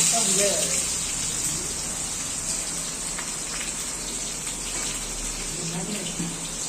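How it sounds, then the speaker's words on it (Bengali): Bay leaf and onion sizzle in hot oil while chicken is being cooked, a continuous loud frying crackle throughout with a voice faintly underneath. "গরম তেলে তেজপাতা দিলাম, পেঁয়াজ,"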